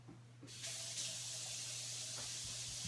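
Tap water running in a kitchen sink to wet pie dough, a steady close hiss that starts abruptly after half a second and continues alone over a low hum.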